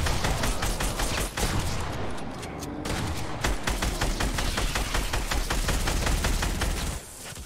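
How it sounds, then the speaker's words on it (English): Dense, continuous automatic gunfire in the Fortnite battle royale game, rapid overlapping shots and bursts sustained loud throughout with no pauses, fired at players from a mountain. "we're finally getting shot from the mountain"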